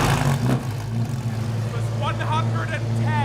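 A V10 BMW M6 idles shortly after a cold start, a steady low engine hum running throughout beneath a person talking.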